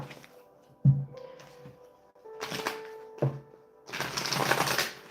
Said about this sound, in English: I want one more shuffle.